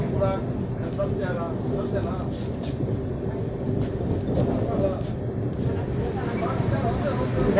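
Lichchavi Express, with new LHB coaches, pulling out of Duraunda Junction, a continuous loud rumble and rattle of rolling wagons heard from on board, with a voice talking over part of it.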